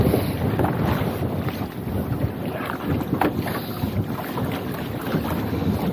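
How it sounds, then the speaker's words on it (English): Strong wind buffets a small fishing boat at sea during hauling of an oversized crab pot for spider crabs, a steady loud roar of gusts and microphone wind noise with water sloshing, no talk. "It's a bit windy, it pulls the boat hard."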